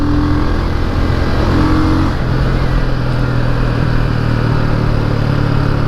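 Motorstar Cafe 400 motorcycle engine revving with widened aftermarket tires on a road with traffic nearby, a loud continuous close engine roar with pitch rising and falling as the throttle is worked, no talk.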